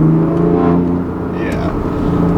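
A tuned 2016 BMW M3 with DCT and a mid-pipe, set to its loudest mode with full throttle response, holds a loud, steady engine drone from inside the car while a voice talks over it.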